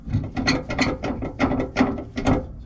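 Ratcheting clicks as a coil spring is hand-screwed back up on a 2021 Ford F150's Roadmaster Active Suspension, a close, steady series of about six mechanical ratchet bursts in a regular rhythm with no talk.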